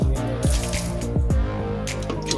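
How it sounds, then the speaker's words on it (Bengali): Water poured out to wash the floor at the front of a home, splashing and trickling continuously with several heavier gushes, close and fairly loud. "একটু জল ঢেলে সামনেটা ধুয়ে দিই"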